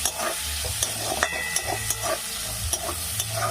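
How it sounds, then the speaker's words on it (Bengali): Chopped onions with black cumin seeds sizzle steadily in a pan, with repeated spatula scrapes and stirring knocks over a constant close frying hiss. "পেঁয়াজটা একটু নেড়ে চেড়ে।"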